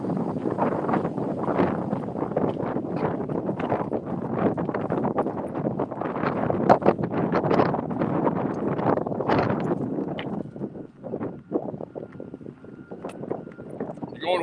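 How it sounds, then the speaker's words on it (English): Strong wind buffets outdoors at a street rally in Edmonton, Alberta, a loud continuous rushing roar with gusty microphone rumble, while people talk nearby throughout. "Really windy out here today. It's like terribly windy."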